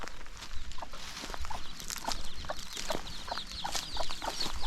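Chickens clucking and scratching around a rural Thai yard, with short, repeated clucks scattered over a steady background and a few soft footsteps nearby, no talk.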